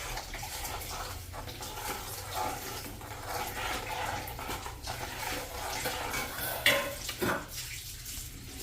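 Paneer butter masala gravy stirred in a pan, giving a steady wet, sloshing churn with soft scraping throughout and a couple of sharper clinks near the end.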